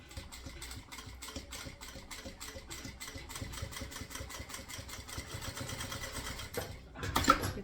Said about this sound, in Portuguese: E vou fazer aqui uma costura com um pé de máquina, tá?